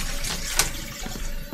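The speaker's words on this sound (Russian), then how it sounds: "Спустить воду" A toilet flushes in the video game Mafia II, a short rush of water with a brief louder burst, then a settling gurgle and refill.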